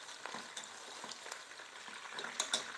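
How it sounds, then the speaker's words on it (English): Meat fries in a pot without oil for Nigerian efo riro, giving a steady soft sizzle and crackle with small pops near the end and no voices. "So I'm frying the meat now"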